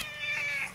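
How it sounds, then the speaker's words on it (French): Pet cats meow close by in a single drawn-out, tonal cry that rises and holds for under a second, loud and alone without talk. "J'ai mes petits chats avec moi."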